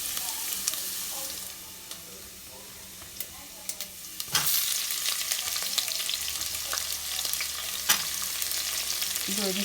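Sliced onion is added to garlic frying in oil in a pan and breaks into a loud, steady sizzle, with scattered clinks and stirring scrapes throughout.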